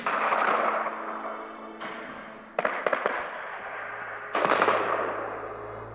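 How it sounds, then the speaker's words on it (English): Bursts of gunfire from a firefight in the video game DayZ echo through a valley, several sharp cracks and rattling volleys echoing out into a long rumbling tail, with gaps between them. "Then, the sounds of a firefight began to echo throughout the valley."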